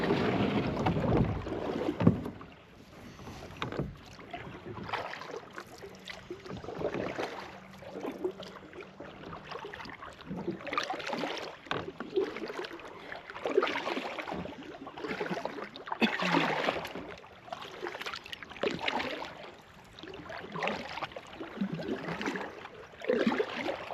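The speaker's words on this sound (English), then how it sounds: "Alright, just got the kayak unloaded. We're gonna go launch her out." A kayak is launched into open water, with scraping and sloshing as the hull goes in. Wind rushes against the microphone and the surface slaps steadily throughout. No one speaks.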